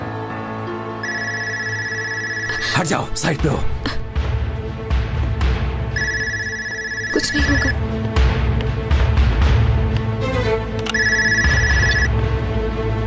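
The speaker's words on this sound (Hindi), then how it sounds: "किसका टेलीफोन है ये?" An indoor telephone bell rings in three separate bursts, each lasting about a second and a half, while people talk urgently nearby and other voices break in between the rings.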